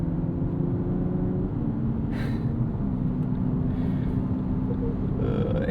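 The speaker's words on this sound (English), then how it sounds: "It sounds like an old racing simulator, like an arcade game that you'd play that just kind of had a generic engine noise." A 2025 Lexus UX 300h hybrid plays synthetic engine sound through its Active Sound Control, a steady, low, generic droning hum inside the cabin under road and wind noise.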